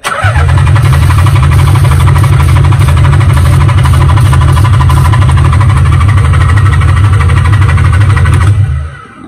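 A neglected Nissan 300ZX engine cranks on the starter with the throttle open, a loud steady rhythmic churning that runs for about nine seconds without catching before it stops.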